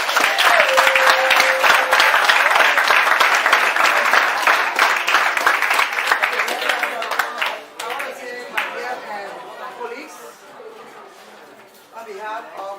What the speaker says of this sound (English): Let us give them a hand of applause.